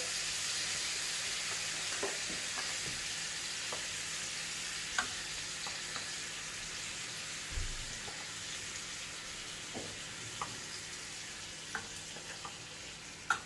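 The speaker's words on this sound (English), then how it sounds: "While our salmon is cooking, we're just sticking the rest of that teriyaki sauce in there." Salmon simmers in teriyaki sauce in a pan, a soft steady sizzle with scattered small pops and occasional light clinks, no voices.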